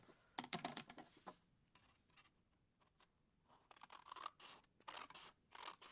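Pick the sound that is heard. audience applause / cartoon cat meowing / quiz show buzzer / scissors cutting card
scissors cutting card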